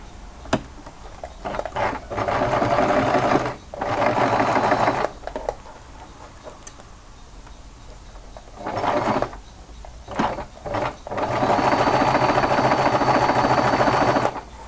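Sewing machine stitching a flat pouch, running in several loud bursts of rapid stitching separated by quiet pauses with small mechanical clicks, the longest run at the end.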